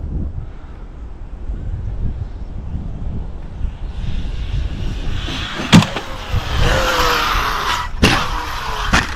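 An ARRMA Outcast 8S EXB v2 RC car drives outdoors, its motor whining and rising over steady wind noise, with a couple of sharp impacts as it lands or bumps, heard from a short distance.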